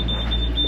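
A boat engine's temperature warning alarm sounds as a clear, high-pitched electronic tone in short repeated beeps over the low rumble of the running engine.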